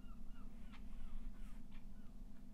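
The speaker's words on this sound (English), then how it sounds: "you may be listening to some seagull background sounds." Distant seagull cries sound faintly a few times over a steady low background hum.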